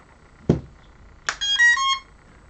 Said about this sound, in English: beep from the motors.